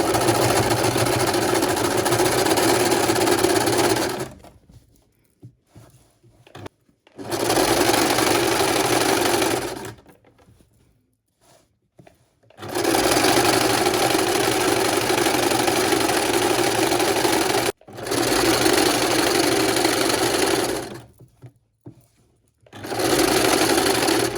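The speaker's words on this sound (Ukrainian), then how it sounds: "І ось так починаємо прошивати." Sewing machine stitching curtain tape onto fabric runs in three long, loud, steady bursts of rapid mechanical whirring, separated by short quiet pauses, with no talking.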